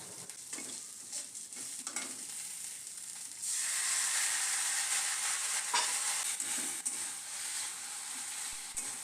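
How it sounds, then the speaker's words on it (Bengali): Boiled red amaranth greens are stirred in a pan with prawns and spices, giving a continuous close sizzle and frying hiss that grows louder partway through, with soft stirring scrapes and no talking. "চিংড়ি মাছ দিয়ে মশলাগুলো এবং চিংড়ি মাছগুলো নেড়ে চেড়ে সিদ্ধ করে রাখা শাকগুলোকে দিয়ে দেব।"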